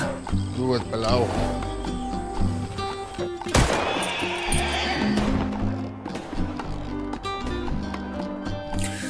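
A horse neighs and whinnies loudly after being struck by a car, with shrill, wavering cries near the start amid a dramatic music score, followed by a sharp impact-like burst and continuing music and voices.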